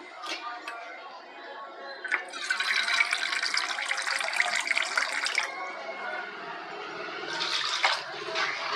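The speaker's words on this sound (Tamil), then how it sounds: "தேவையான அளவுக்கு தண்ணி சேர்த்து இப்போ நம்ம இதை மூடி வச்சிடலாம் வேகட்டும்" Water pours steadily into a pot of goat trotter curry in two bursts, a loud splashing rush with a brief pause between, and faint talk underneath.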